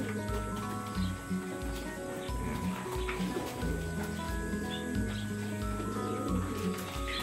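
Pigeons coo softly with scattered calls repeating close by over a steady background hum, with faint movement noises mixed in.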